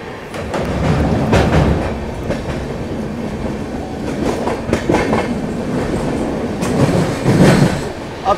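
A special passenger train hauled by a WAG9 electric locomotive rolling past in dense fog, a loud continuous rumble with rhythmic clickety-clack of wheels over rail joints and occasional metallic squeal, close and sustained throughout.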